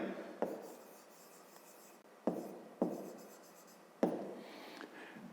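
A pen or pencil writes out a solution to a 5th-grade maths exercise, in short scratchy strokes with several sharp taps as it lands on the paper. The sound is close and quiet, with no talk.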